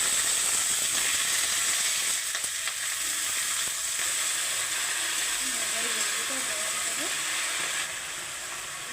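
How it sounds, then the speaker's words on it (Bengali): A dried red chilli sizzles in hot oil in a wok with a steady, loud hissing fry, a few faint stirring scrapes, and a voice talking over it. "কড়াইতে তেল দেওয়া হয়ে গেছে, তেলও গরম হয়েছে। এখন একটা শুকনো লঙ্কা ফোড়নে দেব"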